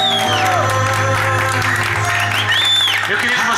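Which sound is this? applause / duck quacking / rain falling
applause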